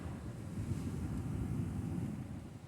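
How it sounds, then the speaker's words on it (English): Small, gentle ocean waves washing onto a shore under a steady low rumble of surf and wind buffeting the microphone, continuous and fairly faint with no distinct breaks. "They sound like they're the smallest waves they've been."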